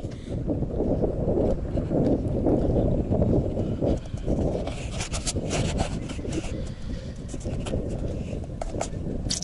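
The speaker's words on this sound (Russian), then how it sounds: "Ветер начался." Wind buffets an unshielded microphone outdoors, a loud, continuous low rumble with gusty swells throughout and faint sounds underneath.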